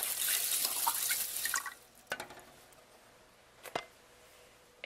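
A can of chicken broth is poured into a pot of rice in a kitchen, a brief gushing stream followed by a few separate drips and small splashes.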